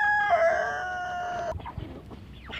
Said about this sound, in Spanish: Los gallitos sin duda son lo más difícil de agarrar y lo más intranquilo